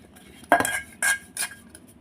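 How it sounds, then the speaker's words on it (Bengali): A metal cake bowl being greased with white oil, giving three short, close metallic scrapes and clinks separated by brief pauses in an otherwise quiet kitchen. "আর এখানে আমি একটু সাদা তেল দিয়ে দিচ্ছি, দিয়ে খুব ভালো করে একটু লাগিয়ে নিচ্ছি"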